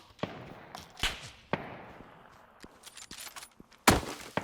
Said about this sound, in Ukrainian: Вона стріляє.